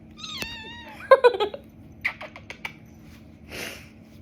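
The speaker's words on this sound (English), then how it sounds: "look at this little kitten named Chaos" A little kitten named Chaos gives a short, high rising meow up close, followed by soft clicks and faint rustling in an otherwise quiet room.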